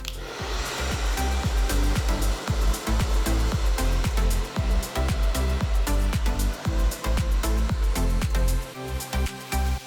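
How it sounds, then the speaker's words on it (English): A hair dryer rough-dries hair in a salon styling class, a loud, steady blowing roar up close that pulses and cuts out briefly as it moves through the hair. "rough dry the hair"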